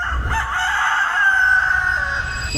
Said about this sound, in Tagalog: Bakit nga ba tumitilaok ang manok?